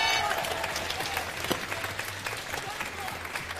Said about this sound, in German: Dein Fanclub klatscht für dich.